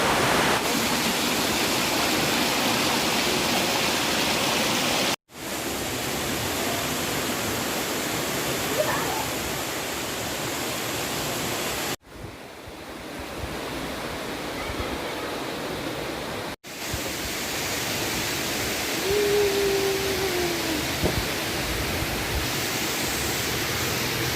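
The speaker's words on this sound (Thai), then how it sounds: "เป็นน้ำตกไหลผ่านนะ" Steady broadband rush of a waterfall flowing past a pagoda set in the water at a Thai temple, loud and continuous with a few brief cuts, no talk.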